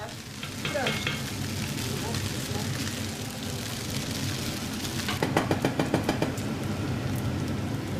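Grated rösti potatoes frying in a pan in a farmhouse kitchen, a steady broad sizzle throughout with a louder crackling burst near the end, under some background talk.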